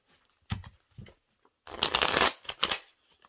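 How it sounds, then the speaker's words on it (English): Tarot cards are shuffled close by: a few short papery riffles, then one longer, louder flurry of cards and a couple of closing taps, heard alone. "So let's shuffle these real good and see if they come back out."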